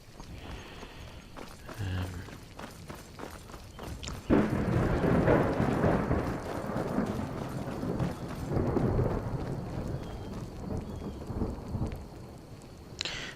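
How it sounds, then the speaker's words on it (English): A deep rumble of thunder rolls in and lingers over steady rainfall in Skyrim, the storm heavy and continuous after a quieter start. "we may settle with a camp and wait to ride out this storm, because that is a lot of thunder"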